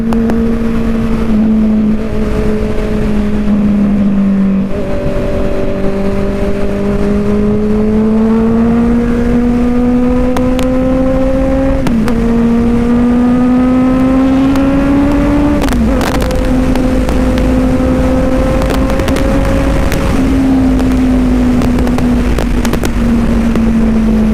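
A Honda CBR650F inline-four motorcycle being ridden hums loud and close, its engine note rising steadily through the gears with brief dips at each shift, wind rush over everything.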